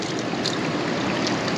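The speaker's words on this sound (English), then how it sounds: "This water right now is flowing out of this bloody mountain." Fresh water running out of a mountainside on an island, a steady close rush and trickle with faint splashy bursts throughout.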